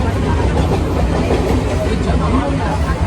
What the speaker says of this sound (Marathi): ट्रेन आता चालू होणार आहे.